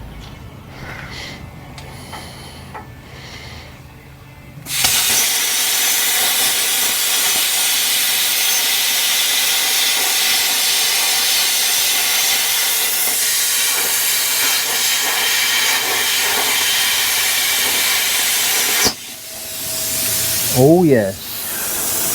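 A torch bites into a quarter-inch steel plate during work on a 1950 Cadillac hearse, with a loud, steady roaring hiss that starts abruptly, holds for about fourteen seconds, then drops, followed by a short voiced exclamation.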